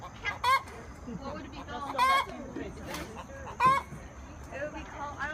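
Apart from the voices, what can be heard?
chickens clucking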